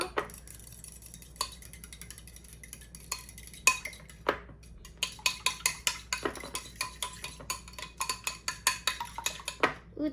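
A utensil scrapes and clinks against a bowl while butter is stirred into pumpkin muffin batter, with sporadic taps early on giving way to a quick, rhythmic series of close clinks.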